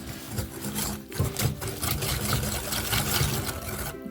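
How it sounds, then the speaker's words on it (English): Sugar is whisked into a melted chocolate cake mixture in a cup, giving a continuous, fairly quiet rhythmic scraping and rattling of the whisk against the container. "So tip that in and then just give that a whisk."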